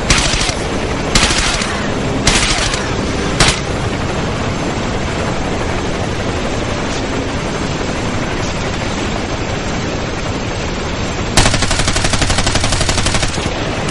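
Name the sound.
gunfire in Ghost Recon Advanced Warfighter video game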